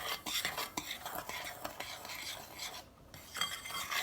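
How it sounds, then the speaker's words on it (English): A spoon stirs cocoa and sugar in a bowl for a homemade chocolate pie, giving quiet, close scraping and light clinking strokes in an uneven rhythm, faint and without talk. "we're gonna stir that all up"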